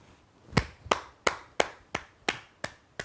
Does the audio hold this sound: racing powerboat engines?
no